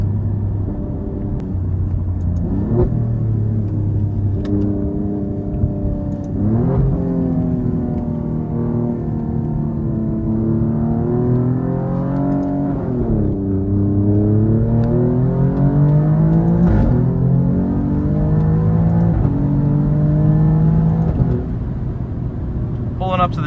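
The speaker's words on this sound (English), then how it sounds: "See if we can get some cool raw audio of the car going on." A 2024 Alfa Romeo Giulia Quadrifoglio accelerates on an open road, its engine heard from inside with steady rising pitch sweeps through several gear changes, loud and continuous.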